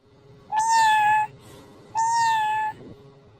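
A cat meows twice, two drawn-out, clear calls of under a second each with a short pause between, close by and loud against a faint background and no talking.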